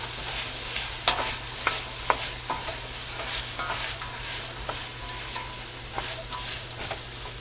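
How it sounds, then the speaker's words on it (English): Red cabbage and apple stirred in a cooking pot, a soft sizzle with scraping spoon strokes and a few light clacks against the pot, close up and without speech. "I'm going to toss the apple in here. Give that a stir."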